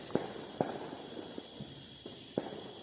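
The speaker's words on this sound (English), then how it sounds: "it's the sound of people popping firecrackers" Firecrackers pop in the distance around the Fourth of July, a handful of faint, scattered sharp cracks over a steady background hiss.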